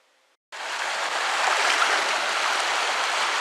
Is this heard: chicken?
no